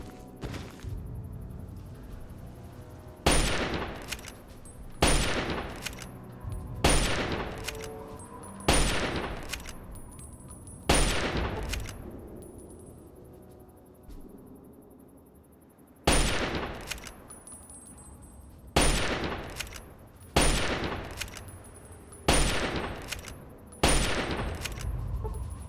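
Automated turrets in Fallout 3 fire repeated bursts of gunfire, each sharp volley ringing out and decaying, spaced every second or two with short lulls between, fairly loud against a quiet game background.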